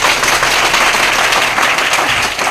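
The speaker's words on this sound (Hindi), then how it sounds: "एक बार अपने लिए ताली बजा दीजिए" An audience applauds after being invited to clap for themselves at a sales talk, a dense, steady wash of many hands clapping at once, loud and close, filling the whole stretch without any voices.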